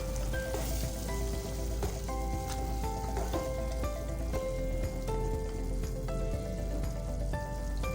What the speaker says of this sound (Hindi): चने और आलू की भी भुनाई कर लें